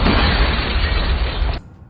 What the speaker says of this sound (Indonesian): Di luar, Miranda dengan basokannya, dia pun menghancurkan ruangan pusat di sana.